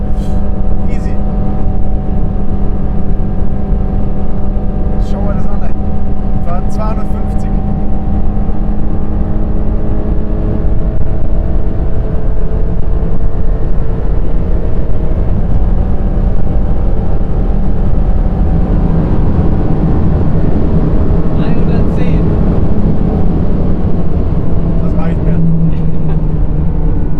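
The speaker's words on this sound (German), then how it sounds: "dass ich mich einfach traue, mit 260 durch so eine schnelle Kurve zu fahren" Mercedes-AMG GT Black Series with 730 hp taken through a fast curve at around 260 km/h, its engine a loud, steady roar heard from inside the car, with someone talking over it.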